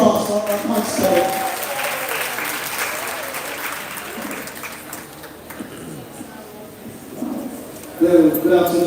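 Sustained audience applause for a concert at a high school graduation ceremony, loud and steady for several seconds and swelling again near the end, with a voice speaking over the clapping.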